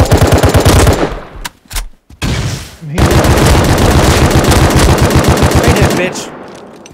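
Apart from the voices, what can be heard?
gunfire in a video game shooter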